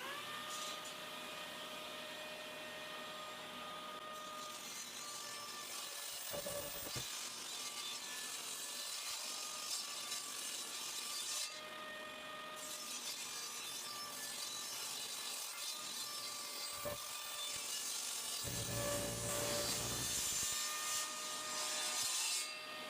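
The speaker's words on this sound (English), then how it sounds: "So I've got my saw set up here. I'm just going to run these through and make them 1 3/8 inches." A table saw cuts wood strips down to 1 3/8 inches for Langstroth medium beehive frames, with a steady loud whine and rising bursts as each piece is fed through, close, with no talk.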